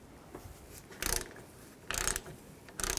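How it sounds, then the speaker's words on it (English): Ratchet with a 15mm socket loosening front strut nuts on a 2011-14 Chrysler 200, three short clicking bursts spaced about a second apart, close and clear, with no voices. "Next I'm going to remove these 3 nuts. I'm going to use a 15mm socket."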